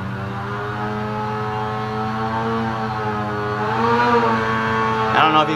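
A 2018 Polaris Axys 800 snowmobile engine with a Bikeman Stage 4 build runs hard on a dyno indoors, giving a loud, steady buzzing drone whose pitch climbs slightly before cutting off abruptly near the end.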